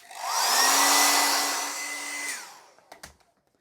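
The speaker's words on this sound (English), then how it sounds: "I'm going to dry that off quickly" A hair dryer blows on a watercolour painting with a steady whirring roar for about two seconds, then winds down and stops, and a few soft knocks follow in the quiet.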